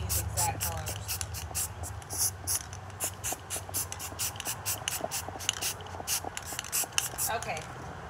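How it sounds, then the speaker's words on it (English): A spray paint can sputters black paint onto the backs of coasters, with the cap pressed only lightly to give a dotty, spattery pattern. The hissing comes in rapid uneven bursts, close up, for about eight seconds. "I'm just barely pushing on the spray paint cap."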